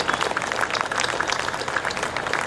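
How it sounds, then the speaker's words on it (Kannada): An audience at a gathering of women entrepreneurs from across India claps steadily, a brisk, even patter of many hands that holds at a moderate level for the whole moment. "ನಾವು ನಿಜವಾಗ್ಲೂ ಈ ಮಹಿಳೆಯರನ್ನು ಅಭಿನಂದಿಸಬೇಕು ಒಂದು ಗಟ್ಟಿ ಚಪ್ಪಾಳೆ ಮೂಲಕ."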